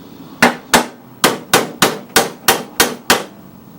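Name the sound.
hammering lawn mower sheet metal with dolly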